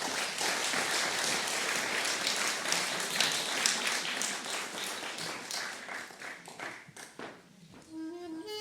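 A concert audience at a traditional Korean music performance claps warmly to welcome the performers, the applause dense and sustained for several seconds before tapering off as a soft instrumental tone begins to sound.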